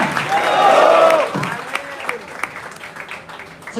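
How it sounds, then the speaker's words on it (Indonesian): Crowd applause at a political event in Medan, a swelling wash of clapping and cheering voices that fades into scattered claps and chatter. "Sekali lagi tepuk tangan untuk Bang Ramos"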